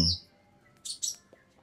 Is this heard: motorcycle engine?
no